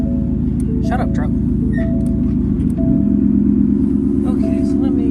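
A 2016 Ford F-150 pickup idles close by with a loud, steady low rumble, its tone shifting slightly partway through, while someone talks over it.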